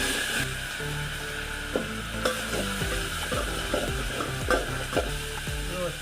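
Masala paste hitting a pan with roasted coconut for mutton curry, a steady close sizzle carrying on throughout, broken by repeated scraping stirs of a spoon against the pan.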